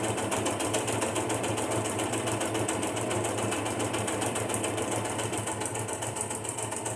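A sewing machine stitching through paper runs steadily at a fast, even rhythm, loud and close, with no pauses and no talking.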